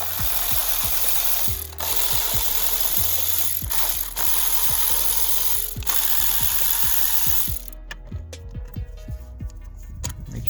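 A ratchet loosens the 10mm ignition coil bolts on an Acura TLX, close rapid clicking in several bursts with short pauses between strokes, ending in quieter scattered clicks and clinks.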